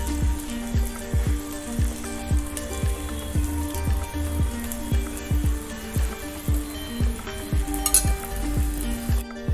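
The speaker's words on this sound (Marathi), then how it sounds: "चांगलं खरपूस भाजून घ्यायचं थालीपीठ" Thalipeeth fries in oil on a pan with a constant close sizzle, broken by a regular series of sharp tapping knocks, roughly two per second, that continue throughout.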